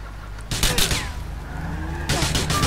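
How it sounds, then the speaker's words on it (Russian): Gunfire from pursuers hits a car during a chase in Grand Theft Auto IV, two loud close bursts of rapid shots over a steady engine drone and tire noise, with a voice speaking in between. "Ай, чертовы люди, они стреляют по нам."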